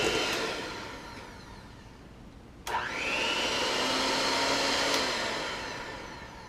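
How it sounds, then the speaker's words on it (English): Electric hand mixer beaters whirring steadily in pineapple angel food cake batter, a continuous motor drone that cuts out briefly and then restarts with a rising pitch as the beaters are lifted high. "pull those beaters out while they're spinning"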